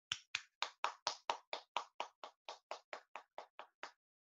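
Steady, evenly spaced claps, about sixteen sharp hits over four seconds, from the audience at a school Fiestas Patrias celebration, crisp and close with silence between each clap.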